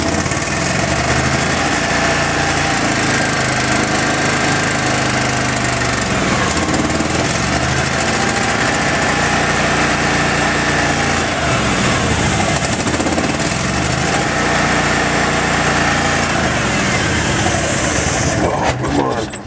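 A cold engine-driven welding machine starts on a freezing Alaskan day and keeps running, a loud, continuous mechanical drone close by that fills the whole stretch with little change.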